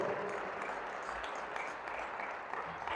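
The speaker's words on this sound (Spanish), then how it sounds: "Vamos, denle fuerte ese aplauso al Señor." A church congregation applauding during a sermon, steady full-room clapping from many people at moderate volume, sustained throughout with no talk over it.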